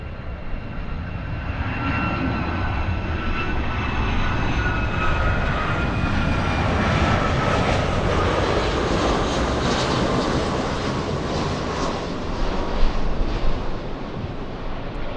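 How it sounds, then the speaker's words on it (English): A United Boeing 757 with Rolls-Royce engines passes overhead on approach from Hawaii, a loud, sustained roar with a high whining scream that swells and fades slightly, heard alone. "Great sound, screaming Rolls-Royce engines."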